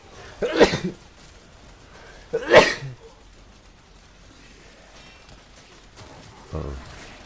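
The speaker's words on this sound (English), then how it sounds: "I'm about to sneeze." A man sneezes twice in quick succession, each a sharp close burst, followed a few seconds later by a softer third sound like a sniff or sneeze onset, in a quiet room.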